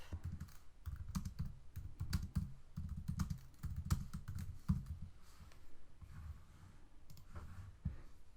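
Fast, close typing on a computer keyboard, a dense patter of key clicks with a few pauses and louder keystrokes, heard alone without voices.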